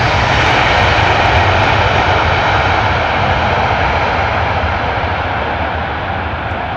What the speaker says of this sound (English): Delta, Team USA livery on the Delta A330-900.